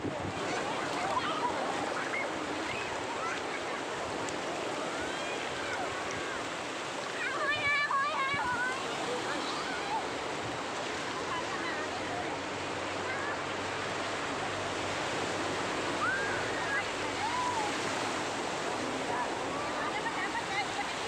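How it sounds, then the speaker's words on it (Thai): Sea waves wash steadily onto a beach where children are playing, a continuous broadband surf roar throughout with splashes and excited children's voices and an adult talking over it. "คือคลื่นน้ำทะเล"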